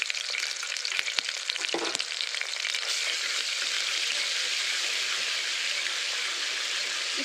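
Ginger garlic paste sizzles and fries steadily in a hot pan, a dense continuous hiss broken early by a few stirring scrapes, close and fairly loud.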